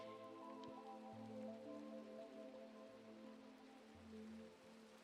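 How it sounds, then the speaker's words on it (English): Steady rainfall patters continuously in the video game Luderia, with a faint low hum and soft tones in the background; no voices. "He's getting hurt by the rain."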